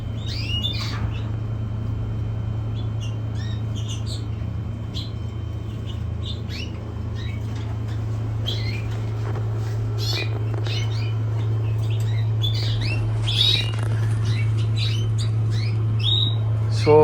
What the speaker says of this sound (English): More canaries. More over here too.